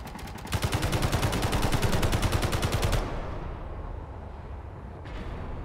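In the Space Engineers video game, rapid gunfire hammers against a ship in a loud, dense burst for about three seconds, then gives way to a rumbling roar with a faint click near the end.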